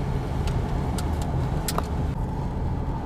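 A car drives along the Island in the Sky road in Canyonlands National Park, Utah, giving a steady, close road and engine rumble with a few light clicks and rattles inside the cabin.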